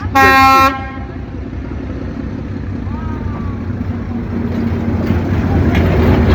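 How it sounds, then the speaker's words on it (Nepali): On Train Street in Hanoi, a train horn blares loudly for under a second, then the steady low rumble and clatter of the passing train continues close by. "So here it is, the most popular train."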